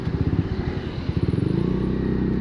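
A Honda Beat motorcycle fitted with an FK Racing tube-style aftermarket exhaust cranks and fires up, settling into a loud, steady low-pitched idle burble close by.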